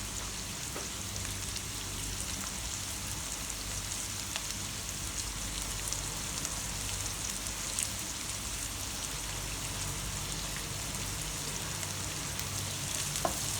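Sea shells stir-fry in a hot pan for gisado, giving a steady, dense sizzle with faint scraping from the stirring throughout, and no voices.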